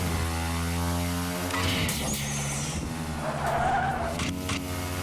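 An RC car power-slides in Screw Drivers, its whining electric motor tone bending as the tires squeal and skid across the surface, loud and continuous with no talking.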